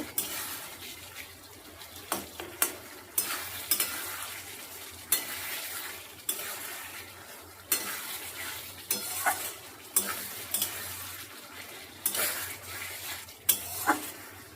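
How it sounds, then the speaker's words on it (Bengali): Tomato masala for a light summer fish curry sautéing in oil in a pan, with a steady sizzle and repeated sharp scraping stirs of a spoon against the pot, close and moderately loud, no talking. "আর একটু কষাবো, তেলটা ছেড়ে যাওয়া পর্যন্ত"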